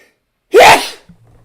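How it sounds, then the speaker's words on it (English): A single loud, close sneeze bursts out sharply and fades quickly, followed by a moment of quiet breathing. "God, I'm going to sneeze."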